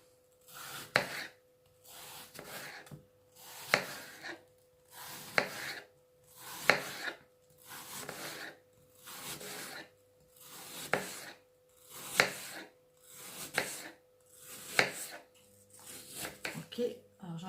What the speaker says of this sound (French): Je coupe mes pommes comme ça, en toutes petites lamelles